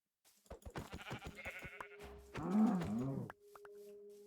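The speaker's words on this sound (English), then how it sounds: "Okay, that's the sheep that I need." A Minecraft sheep lets out a few bleats, short wavering baa calls heard clearly and close, with faint game sounds around them.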